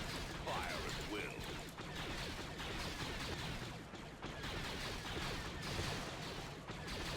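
Units firing weapons in a Star Wars: Empire at War battle, a dense, steady wash of blaster and cannon fire with rumbling explosions, continuous and moderately loud throughout.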